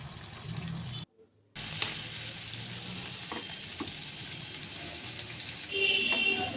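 Spices fry gently in oil over low heat, making a soft, continuous sizzle broken by a short pause, with light stirring clicks and no voices.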